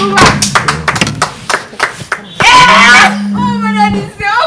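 Scattered hand claps and taps at a birthday party, a few sharp irregular claps mixed with loud talking and laughter from the guests.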